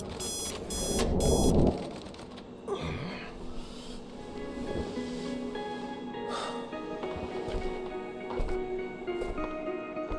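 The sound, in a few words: alarm clock ringing in video game The Operator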